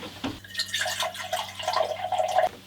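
Liquid is poured steadily into a container, a continuous close trickling and splashing that rises slightly in pitch as the vessel fills, with no one speaking.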